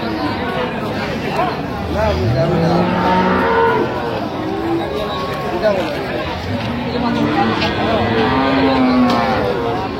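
Cows with their calves low at a busy village cattle market, several drawn-out moos rising and falling at mid distance over steady crowd chatter and people talking.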